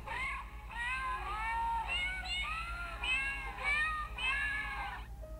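Several cats meowing in a repeated, song-like sequence, about five drawn-out wavering cries in a row, close and fairly loud over a low steady hum, with no talk.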